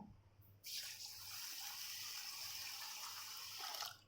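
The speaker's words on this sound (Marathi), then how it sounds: "आता हे स्वच्छ तीन पाण्याने धुवायचं आहे" Water runs steadily over rice being rinsed clean for idli batter, a continuous faint splashing that starts abruptly after a short pause and holds for several seconds before tapering off, with no talk.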